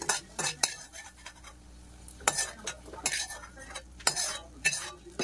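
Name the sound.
tempering (popu) being stirred in a pan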